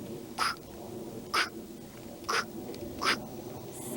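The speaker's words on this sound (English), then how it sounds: "Their only companion is an annoying bird cracking snails." A bird cracks snails by the door on the Lonely Mountain: four sharp, separate knocks, spaced about a second apart, over a faint, quiet background.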